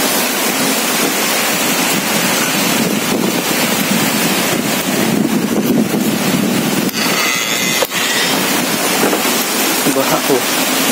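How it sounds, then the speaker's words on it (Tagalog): Strong typhoon wind roars and buffets the microphone in Camarines Sur amid flooding, with gusty broadband rushing that swells and eases throughout and a few sharp knocks. "Lakas ng hangin."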